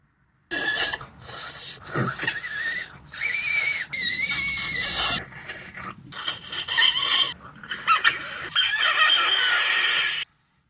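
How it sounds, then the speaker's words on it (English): Shrill, warbling whistle tones in short bursts with brief gaps, played on a tiny bird whistle held on the tongue, chirping and sliding like birdsong, fairly close, with faint breathy rasp underneath. "this bird whistle that sits on your tongue. Not easy to play."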